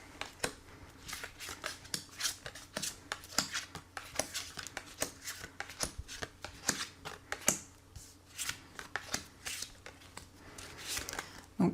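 Tarot cards being shuffled by hand for a reading, a long run of quick, crisp riffling flutters and soft slaps at close range, fairly quiet and steady in rhythm.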